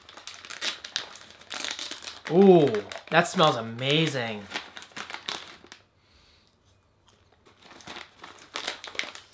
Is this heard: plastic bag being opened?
yes